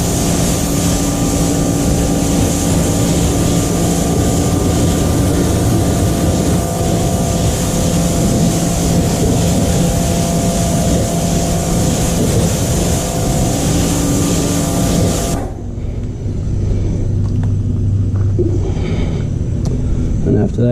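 A pressure washer sprays a car's engine bay in a loud, steady, dense roar of water and motor noise. It runs almost unbroken, then drops to a lower, rougher rush for the last few seconds.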